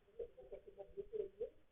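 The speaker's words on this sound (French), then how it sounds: "Nous avons un petit oiseau." Soft, repeated cooing notes from a bird in the video game Roblox, about six short calls in a quick rhythm, faint and close.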